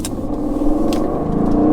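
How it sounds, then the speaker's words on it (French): An Aston Martin Vantage with a sport exhaust runs on the Nürburgring, its engine droning loud and steady from close by. The exhaust pops and burbles now and then over the constant rumble. "on a l'échappement sport, donc on a des énormes explosions à l'échappement, des glougloutements dès qu'on lâche le pied"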